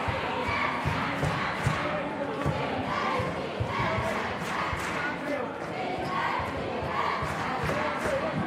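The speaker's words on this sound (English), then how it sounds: "Student section letting them hear a chant" High school boys basketball student section chanting in a gym, loud rhythmic crowd shouts with regular beats and stomping thuds, repeating steadily from a packed crowd.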